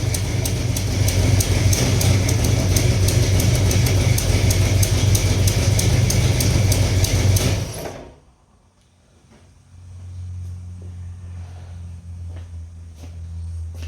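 A 1967 Dodge Coronet with a 440 six-pack engine and a leaking header runs loud and close with a fast, steady ticking over its rumble, then cuts off after about eight seconds, leaving a low hum.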